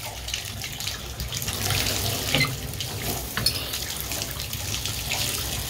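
Water gushes steadily from a tap fed by a gas water heater (boiler), a close, continuous hissing splash that holds an even level for several seconds with no talking.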